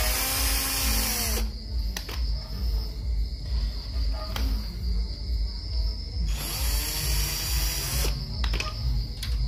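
Small power tool whirring as screws are backed out of a mini portable gas stove, steady motor whine in long runs broken by short pauses, close and loud, with no voice.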